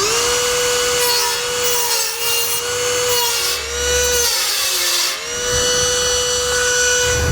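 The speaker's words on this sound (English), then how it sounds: "Now I'm going to use a Dremel tool to make that cut and trim that out" A Dremel tool trimming a plastic rock guard on a 2019 Ford Ranger, a close high steady whine that dips briefly under load as it cuts.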